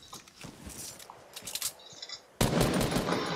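Automatic gunfire from Fortnite, several bursts of rapid shots over the first two seconds, then a dense, loud sustained volley near the end.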